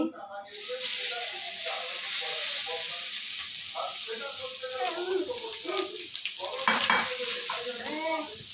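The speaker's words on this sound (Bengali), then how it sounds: "এই প্রথমে একটু ঘি দিলাম, তারপরে এই নারকেলটা ছেড়ে দিচ্ছি।" Grated coconut frying in ghee in a pan for kheer naru, a steady close sizzle with occasional stirring scrapes, under someone talking throughout.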